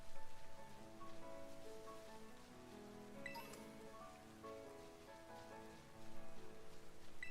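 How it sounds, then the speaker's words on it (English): Steady rain patters softly and continuously in a Pokémon video game set in the Paldea region, layered with faint tonal music, quiet and even throughout. "Of course it's raining."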